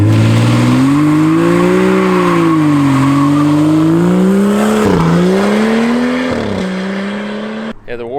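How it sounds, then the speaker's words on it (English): A BMW F30 335i running an E85 tune does a burnout, its engine holding a loud, sustained wavering drone with tire squeal throughout, pitch rising and dipping as revs change before a brief drop near the end. "Let's see how it handles the burnouts."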